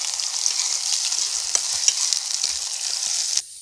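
Chopped elephant foot yam stalks fry in a pan, a bright, steady sizzle close by with small clicks from stirring, ending abruptly.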